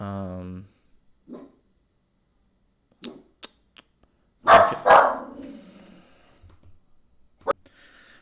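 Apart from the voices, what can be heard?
dog barking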